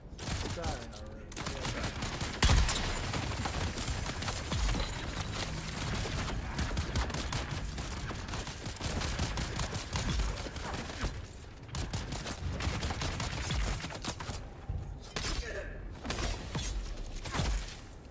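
Dense, continuous gunfire in the video game Dune Awakening, rapid shots and impacts crackling loudly for the whole stretch with brief lulls, while voices talk over it.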